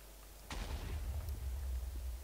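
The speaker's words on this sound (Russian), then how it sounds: "Это взрыв, да, такой?" A video-game explosion goes off after a winged moth-like creature is shot at, a sudden loud blast followed by a sustained low rumbling roar that fades slowly, with no talk.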